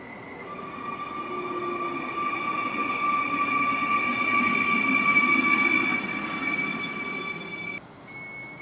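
A train runs through Warszawa Ochota station, with a loud steady rumble and sustained high wheel squeal tones lasting several seconds before fading and shifting near the end.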